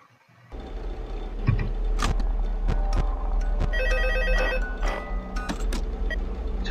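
A telephone keeps ringing in repeated electronic bursts in the video game Five Nights at Freddy's 2, over a steady low engine-like hum, with occasional sharp clicks and knocks.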